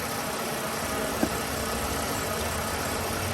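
A steady, low idle from a 20-year-old Ford engine drones on without pause, with one brief faint tick partway through and no voices.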